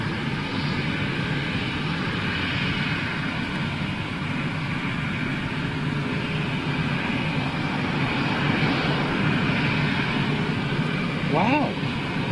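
A Kenya Airways jet airliner takes off, its engines giving a loud, steady broadband roar that fills the whole stretch without a break, heard from a distance.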